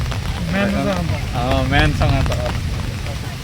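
Heavy rain pours steadily outdoors during a monsoon outing to Gundicha Ghagi, a constant loud wash of noise beneath someone talking throughout.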